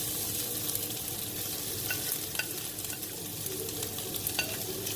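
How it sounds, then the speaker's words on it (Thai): Dried chilies stir-fried in a little oil for Thai pad kra pao, a continuous close sizzle broken by light clicks and scraping of a spatula against the pan, with no voices. "ใส่พริกก่อน ใส่พริกแห้งพริกผัดกะเพราพริกแห้งเพื่อนๆ"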